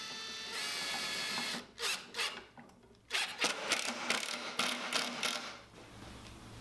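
A power drill drives a screw into wood while a barn door night stand is built, whirring close in short bursts after a steady opening whine.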